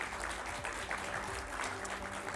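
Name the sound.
audience applause for the panelists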